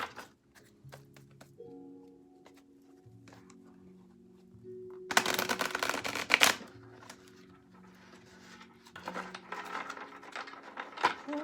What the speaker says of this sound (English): we just need a few shuffles